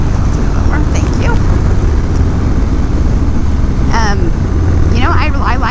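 A Harley-Davidson Breakout motorcycle fitted with a new 250 rear tire rides along the road, with constant loud engine and wind rumble throughout and brief chirping bits of voice over it.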